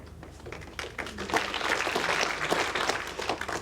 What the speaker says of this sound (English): That's a polite round of applause, but it's short.